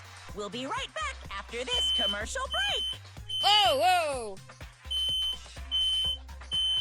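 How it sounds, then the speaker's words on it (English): A home smoke alarm set off by an overheated oven beeps with a high, steady tone in repeated bursts, while lively, expressive speech carries on loudly over it. "The oven got too hot and the smoke alarm went off."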